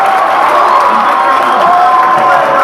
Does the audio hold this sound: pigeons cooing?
no